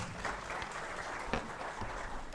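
Faint, even applause from an audience at a Uganda–UAE business forum, continuous and distant-sounding with a few sharper claps standing out.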